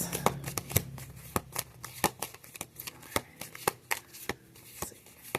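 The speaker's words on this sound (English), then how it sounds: "Shuffled a few times, haven't got anything out." Tarot cards are shuffled by hand at close range, a run of crisp, irregular riffling snaps and taps repeating steadily across the whole stretch with no talking.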